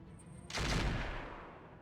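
Mech weapons fire in the video game RogueTech, a BattleTech mod, as one sudden heavy blast after a moment of quiet, then a long rumbling decay.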